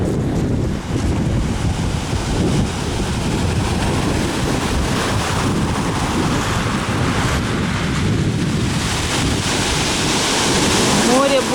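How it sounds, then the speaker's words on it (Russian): Stormy sea waves crash and roll continuously onto a pebble beach, a loud, dense roar of surf mixed with heavy wind buffeting the microphone, with a faint voice underneath. "Море сегодня разбушевалось"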